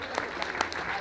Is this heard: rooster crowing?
no